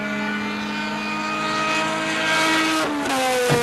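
A race car at a 1980 SCCA race pulls away with a loud, high, whining engine note that holds steady and then shifts pitch through upshifts, close by and with no talk.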